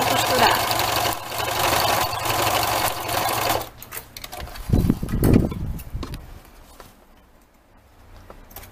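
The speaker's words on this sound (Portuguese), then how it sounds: "E começo a costurar." A sewing machine stitches fabric in a loud, fast, steady run, then stops, followed by a few softer handling clunks and near quiet at the end.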